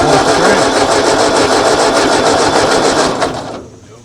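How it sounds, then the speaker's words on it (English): A 1939 Ford tractor engine left in a field for over twenty years cranks over loudly in a fast, even rhythm for about three and a half seconds, then the starter stops without the engine catching. "I'm gonna turn it over and see if it draws fuel"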